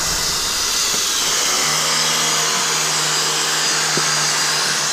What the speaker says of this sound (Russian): Это тоже окончательная полировка.